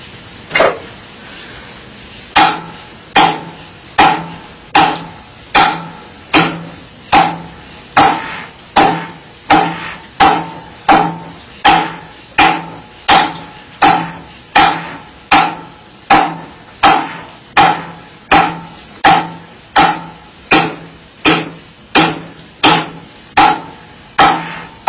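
Rapid, evenly spaced chops of an M9 bayonet blade biting into wood, around thirty sharp loud impacts in steady rhythm, each with a quick ringing decay, close and alone.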